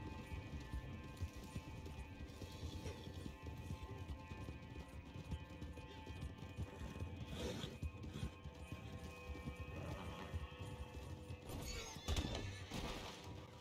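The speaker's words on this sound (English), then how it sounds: "Oh, my horse is acting on its own." A horse in a video game neighs and whinnies over steady clip-clopping hooves, set in a dense, noisy game soundscape with continuous background rumble.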